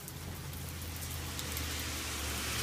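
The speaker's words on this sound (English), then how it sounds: "What is that, JoJo? Rain. It's rain." Rain falling outdoors, a soft, steady hiss of drops at low volume with a faint low rumble beneath, no voices.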